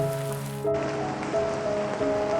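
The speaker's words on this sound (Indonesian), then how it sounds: "saat hujan turun dengan sangat deras" Heavy rain falls steadily, a dense broadband hiss close by, with a sustained musical tone over the first part that shifts partway through; no talking.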